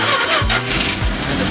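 A 1967 Winnebago D18 engine being started by jumping the starter with a screwdriver: loud, close grinding cranking with a couple of heavy surges as the engine catches.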